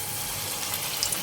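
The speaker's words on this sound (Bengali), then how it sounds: "পকোড়াগুলো ভেজে নেব।" Batter-coated cauliflower pakoras fry in hot oil in a kadai, giving off a brief, close, steady bubbling sizzle with no voices.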